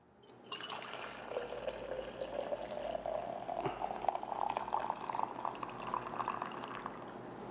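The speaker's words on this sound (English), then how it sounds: "And then I'll just pour it in here just so you can see." Homemade chicken stock poured steadily into a container, a continuous liquid splash and gurgle that rises slightly in pitch as it fills, close and alone for several seconds.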